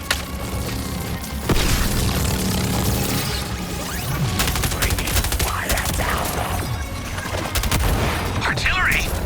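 Heavy cannon fire in the video game Suicide Squad: Kill the Justice League, with repeated booming blasts and crashing impacts over dense continuous battle noise, loud and up close.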